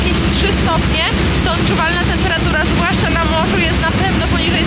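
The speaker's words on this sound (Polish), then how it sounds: "jest dość duży wiatr" Loud, steady winter wind roar in Tromsø, Norway, buffets the microphone throughout as rain begins, with people talking over it.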